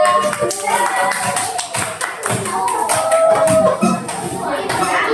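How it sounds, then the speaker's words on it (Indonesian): Classroom applause for a student group after their presentation, a dense patter of many hands clapping throughout, close and steady, with a voice murmuring faintly underneath. "tepuk tangan untuk kelompok 3"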